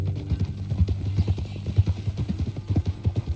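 Horse hooves clip-clop in a steady walking rhythm in the Red Dead Redemption 2 video game, close and distinct, with dull thuds repeating for a few seconds and no speech over them.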